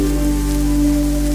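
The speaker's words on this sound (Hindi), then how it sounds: "बारिश और तेज होने लगी थी" Heavy rain falling as a story sound effect, a dense steady hiss of drops with a low droning tone underneath, loud and continuous throughout.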